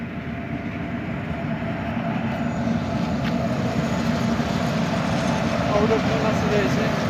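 A train rumbles steadily nearby as it arrives, a continuous low rolling roar with faint clatter that swells slightly toward the end, with voices talking over it.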